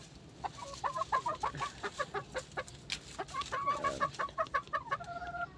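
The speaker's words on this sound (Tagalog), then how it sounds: "Ganda ng manok din yan." A brooding hen clucks in quick repeated bursts, near and fairly quiet, with a couple of drawn-out calls toward the end.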